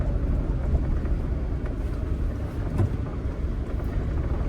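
Petrol Mahindra Thar making a U-turn, a continuous low engine and road rumble mixed with wind buffeting, fairly loud and steady with no sharp changes.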